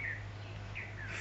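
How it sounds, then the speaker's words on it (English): A bird calling at Chintamani Kar bird sanctuary near Kolkata, faint high chirping notes over low steady background hum. "And there I hear some noise. I think it's from a bird"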